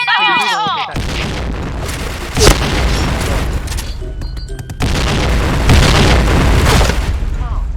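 Loud booming blasts from a video game, layered with game effects and gunfire, while someone talks over the action.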